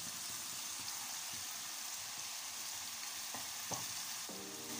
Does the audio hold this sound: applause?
no